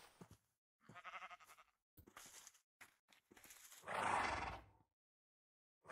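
A Minecraft horse in a VR horror survival modpack gives a few neighs and whinnies, short quiet bursts separated by silence, one longer breathy call near the end.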